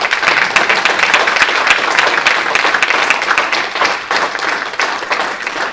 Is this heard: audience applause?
yes